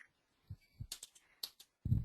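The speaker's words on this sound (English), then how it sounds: "try the arrows on your keyboard" Keys pressed on a computer keyboard during an online webinar: a few separate soft clicks and thumps, close and quiet, with short silences between them and a firmer press at the end.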